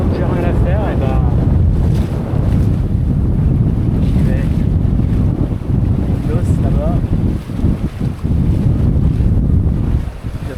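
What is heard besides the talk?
wind blowing on a sailboat at sea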